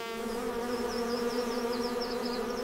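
A steady, dense drone of honey bees buzzing, close and continuous with a wavering pitch and no pauses.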